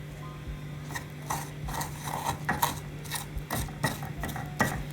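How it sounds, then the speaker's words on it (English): Sand being stirred into a wet brick-making mixture, giving repeated gritty scraping strokes with an irregular rhythm over a steady low hum, fairly close and moderately loud, with no talking. "Just added the sand. I'm gonna stir it now."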